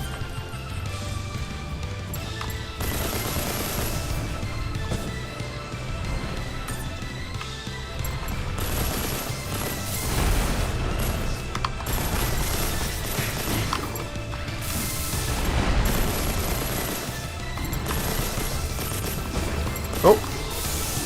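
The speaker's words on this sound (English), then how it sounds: "Just shooting down range with missiles and in a close quarters environment like this is brilliant." Missile salvos fired in Mass Builder, a mech game with Gundam-style units, in a close-quarters area: repeated whooshing launches and thudding impacts with mechanical clatter, continuous action and occasional talk over it.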